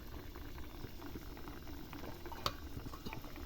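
Pea and potato curry bubbling in a pot, a soft continuous low simmer with faint pops and one brief clink partway through.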